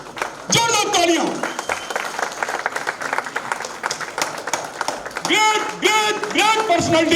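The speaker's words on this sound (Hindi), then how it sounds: "जोरदार तालियां।" A talk show audience in Agra breaks into loud, sustained applause, dense clapping running throughout while a voice speaks over it with amplified, echoing calls.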